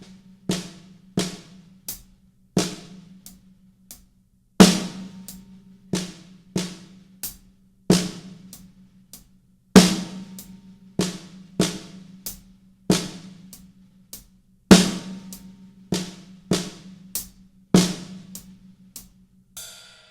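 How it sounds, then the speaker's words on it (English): A drummer plays a gospel-style paradiddle split between snare drum and hi-hat, crisp close hits in a quick repeating right-left sticking pattern with sharp snare cracks and ringing snare buzz, alone with no talk. "we're going to play a paradiddle between our snare drum and our hi-hat."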